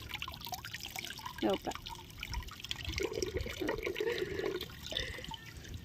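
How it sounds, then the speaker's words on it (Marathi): Water trickles and splashes as vessels are filled from a supply, a faint continuous running sound heard under a voice talking. "2 तास झालं मी पाणी भरीते"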